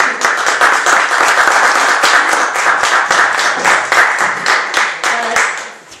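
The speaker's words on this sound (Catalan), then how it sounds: "Un aplaudiment." Audience applause at a theatre presentation in Andorra: a dense burst of many hands clapping, loud and close, sustained for several seconds before tapering off.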